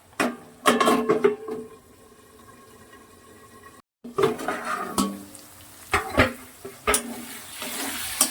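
Curry is stirred in a pot after a little water is added. Close clattering scrapes of a spoon against the pot come in bursts over a quiet simmering hiss, with one brief gap of silence.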